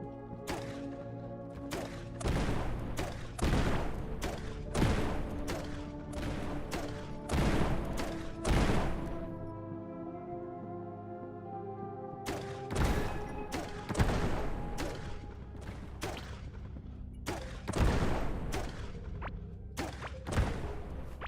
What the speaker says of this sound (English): the explosions were tearing up the floor panels as well